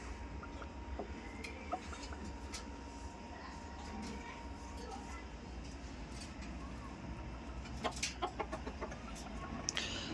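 Healthy laying hens cluck in scattered, faint calls from a short distance, over a steady low background hum with a few brief sharper clicks near the end.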